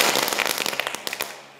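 Category 1 firecrackers crackle in rapid, irregular bursts around New Year in Zeeland, loud and close, the pops thinning out toward the end.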